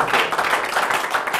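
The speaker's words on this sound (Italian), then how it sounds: "Ancora un grande applauso." A studio audience on an Italian sports TV show claps in a dense, steady burst of applause, loud and close, lasting throughout without any voices on top.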